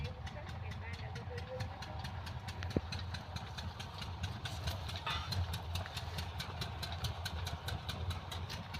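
Tractor engine idling outdoors on a farm, a low, steady mechanical rumble with a regular ticking pulse running through it, under a voice.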